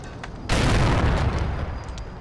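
A grenade detonates in GTA 4 with a loud, sudden boom after a quieter stretch, followed by a long, heavy rumbling roar that stays strong through the rest.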